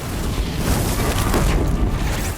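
A deep, rumbling boom from an explosion in the video game Horizon Zero Dawn, loud and sustained for a couple of seconds before cutting off abruptly.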